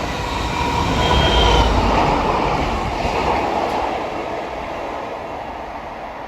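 A pair of Class 170 diesel multiple-unit trains rolls past near Langley Mill, a broad steady rumble swelling close by and then fading away, with faint wheel squeal.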